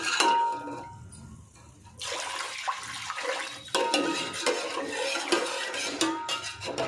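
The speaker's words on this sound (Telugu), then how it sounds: "ఇప్పుడు 4 గ్లాసెస్ వాటర్ అనేది యాడ్ చేసుకుందాము" Water splashes and pours into a pot of soaked basmati rice, a bright running gush that stops and restarts several times, close and fairly loud.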